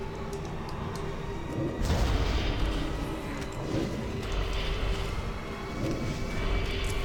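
A fiery Inferno Shell spell effect from World of Warcraft: a dense, roaring whoosh with a heavier booming surge partway through, steady and loud over low game ambience, with no talking.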